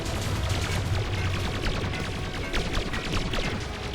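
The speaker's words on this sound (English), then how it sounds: "they are basically shooting the same amount of missile and laser as each other" Missiles and lasers fire in a video game boss fight, a dense continuous barrage of rapid crackling shots and bursts at moderate level with no pauses.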